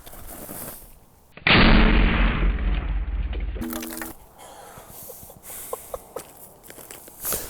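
Shotgun fired point blank at a target head with a hot Hornady Critical Defense load: one loud, sharp blast with a long ringing decay, followed by quieter outdoor rustling and footsteps.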